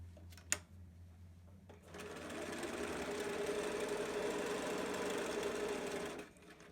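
Domestic sewing machine stitching fabric for a zipper pouch, running in one steady, continuous whirring burst of several seconds after a brief click, close and fairly loud, then stopping.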